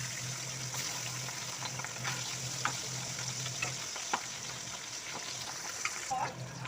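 Pabda fish frying in hot oil: a quiet, continuous crackling sizzle with small pops and clicks, fairly faint and steady throughout.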